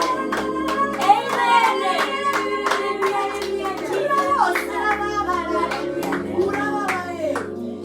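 A church congregation at an evening worship service claps and cheers, with steady rhythmic clapping and lively voices sustained throughout under music.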